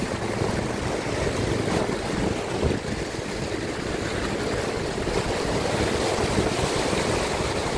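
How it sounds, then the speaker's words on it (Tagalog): Strong floodwater waves surge across a flooded road in Apalit, Pampanga, a steady loud rushing and sloshing of water blended with wind noise, with no speech. "Lakas ng alon ha."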